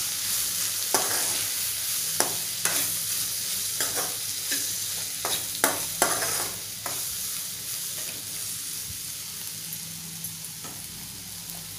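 A spoon stirs okra with turmeric and Malvani masala in a pan, scraping and clicking in quick irregular strokes over a steady, soft sizzle of frying.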